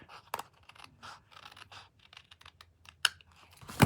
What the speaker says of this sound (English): So now I'm just going to cut straight across there.